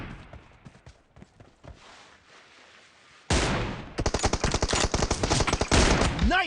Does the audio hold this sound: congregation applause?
no